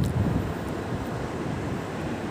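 Sea waves surge toward the shore with a steady, broad roar of surf mixed with gusting wind buffeting the microphone, continuous and fairly loud throughout.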